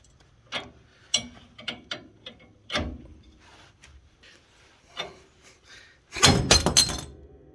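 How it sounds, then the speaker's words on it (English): A tool works a ball joint loose on the front suspension of a 1971 Chevelle with the castle nut still on. Several separate knocks and ratcheting clicks lead up to a sudden loud, crackling pop near the end. "this pops the ball joint without doing any kind of damage"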